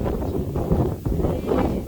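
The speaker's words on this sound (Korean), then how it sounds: "지금 바람이 워낙 강하기 때문에 제가 잠시 이쪽 바람이 좀 덜 부는 곳으로 모셨습니다" Strong wind buffets a microphone outdoors at a former airfield's underground bunker on Jeju, a loud, continuous low rumbling roar with gusty swells and no clear pauses.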